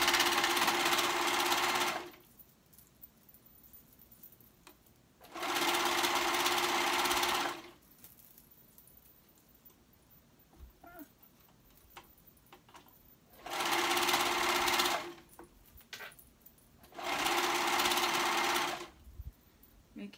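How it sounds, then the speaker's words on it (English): A sewing machine stitches hoodie seams in four separate runs of fast, even whirring, each lasting about two seconds, with quiet pauses between as the fabric is repositioned. "you want to make sure that you're sewing both sides and going straight to where that seam is"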